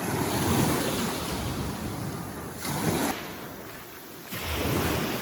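Surf from the Black Sea breaking on an open beach at Chornomorsk in the evening, a steady broadband wash with wind buffeting the microphone and swells rising and falling, no voices.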